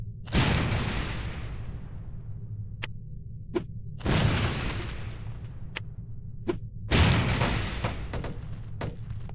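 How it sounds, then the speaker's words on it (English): Three loud explosive blasts from lipstick bombs detonating in No One Lives Forever, each a sharp boom spaced several seconds apart and decaying into rumble, with small ticks between over a steady game hum. "These relatively inconspicuous-looking lipsticks are actually powerful explosive devices that detonate on impact."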